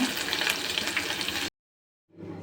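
Banana flower pakoda crackling in hot oil, a close, busy sizzle that cuts off abruptly into silence before a softer sizzle returns.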